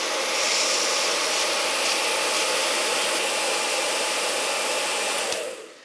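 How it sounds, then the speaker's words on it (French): A hair dryer blasts hot air around a metal cake ring set on a chocolate raspberry crunch dessert: a loud, close, steady whoosh lasting about five seconds before it switches off. "un sèche-cheveux et je vais passer tout autour"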